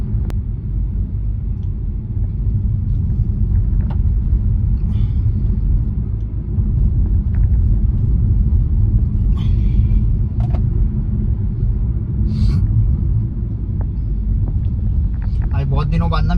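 A Royal Enfield Guerrilla 450 motorcycle rumbles steadily while being ridden, a continuous low engine drone with wind noise, under someone talking throughout.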